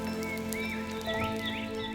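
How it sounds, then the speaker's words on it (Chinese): Steady, soft patter of rain falling on a lotus pond surface, with occasional chirping bird or frog calls in the background; no voices. "是宋家城荷花池中雨水洒落湖面的淅沥声"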